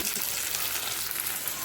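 Onion, garlic and curry leaves sauté in a pan for sambar, giving a steady, dense sizzle that holds close and even throughout with no pauses.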